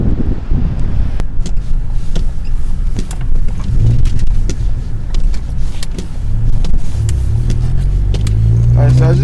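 An E30-tuned Ford Focus ST turbo hatchback on the move, heavy low rumble with wind buffeting on the microphone and the engine note building toward the end, a voice talking over it.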